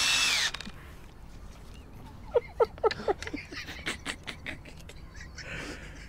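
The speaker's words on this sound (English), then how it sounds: "So I've loaded the appropriate drill bit and we'll just see if we can get that" A power drill bores a cable hole through a motorhome panel: a loud whirring burst at first, then a series of short, pulsing bites as the bit works through the material, close up.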